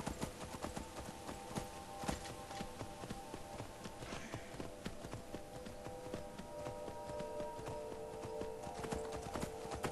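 Horse hooves clip-clop steadily while riding in Skyrim, a repetitive close rhythm over continuous game ambience and background music.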